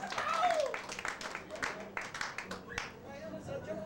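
Audience applause greeting a celebrity guest on a stage show, steady clapping from a crowd with speech and cheering mixed in throughout.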